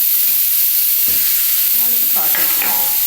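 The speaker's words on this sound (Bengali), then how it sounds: "এর মধ্যে একটু পেঁয়াজটা একটু হালকা করে একটু ভেজে নিচ্ছি" Onion, garlic, ginger and salt sizzle steadily in a pan, being lightly fried as a filling for stuffed sattu parathas, with a few stirring scrapes cutting through the close, continuous hiss.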